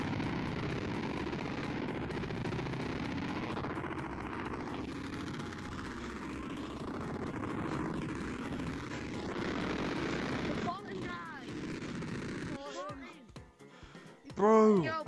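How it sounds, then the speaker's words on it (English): A military helicopter in the Gorilla Tag video game makes a steady, droning rotor and engine roar for most of the clip before it fades, followed by brief children's voices. "Was that a guy playing in like a military helicopter or something?"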